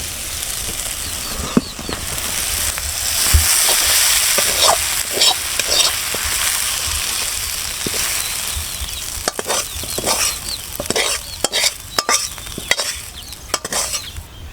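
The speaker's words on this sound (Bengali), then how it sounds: "আমার চিংড়ি মাছ দিয়ে লাউয়ের বিচি ভাজা হয়ে গেছে, এখন আমি নামিয়ে নেব।" Shrimp and bottle gourd seeds sizzle steadily in a hot pan while a spoon scrapes and stirs, giving repeated clicking scrapes that grow busier toward the end, close and fairly loud with no talk.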